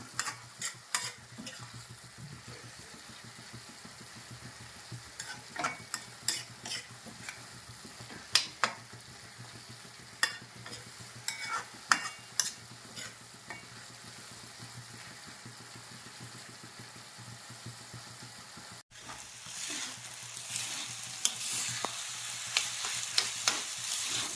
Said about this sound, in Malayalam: ഇങ്ങനെ ഇളക്കി യോജിപ്പിക്കുക